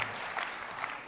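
Classmates gathered at an award ceremony for a small-business prize clap together in a brief burst of steady, dense applause, close and moderately loud.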